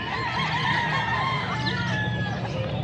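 Street comb roosters, including white-legged birds, cluck and call continuously in a busy live-poultry market in Angeles, Pampanga, with overlapping squawks and a few higher cries over a dense crowd of birds.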